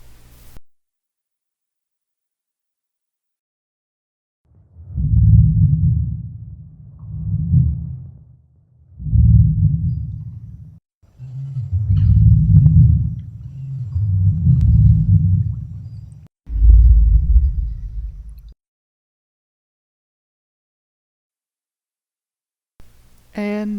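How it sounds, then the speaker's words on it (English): Deep, low rumbling sounds recreating the growls of a draconic language, six swelling bursts in a row separated by short gaps, heavy and close with no other noise around them. "these are the closest I could find to our really, really rumbly rumbles"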